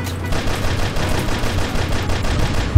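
Rapid gunfire from the game Air Control, a dense run of repeated shots that is loud and continuous throughout, with no talking over it.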